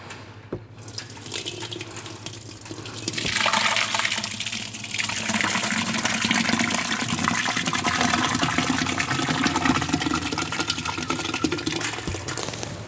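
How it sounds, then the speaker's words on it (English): Fermented baijiu mash poured from a barrel through muslin into a colander, a loud steady gushing and splashing pour that builds after a brief start and continues without pause, close up, no voices. "we're just going to take the barrel and pour it in the muslin over the top of the colander"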